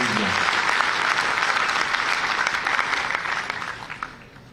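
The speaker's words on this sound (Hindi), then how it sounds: "इन सबके लिए जोरदार ताली बजा दीजिए" Loud, dense applause from an audience at a Constitution anniversary event honouring Ambedkar, a sustained wash of many hands that gradually thins and fades toward the end.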